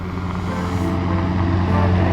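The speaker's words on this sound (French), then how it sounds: "On commence aujourd'hui l'exercice avec de nombreux hélicoptères sur la plateforme" Numerous military helicopters run on an air force platform, giving a loud, continuous low rotor-and-turbine drone that holds steady and swells slightly, with no voices.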